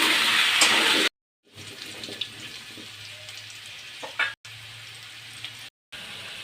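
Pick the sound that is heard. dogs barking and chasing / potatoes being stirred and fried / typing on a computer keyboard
potatoes being stirred and fried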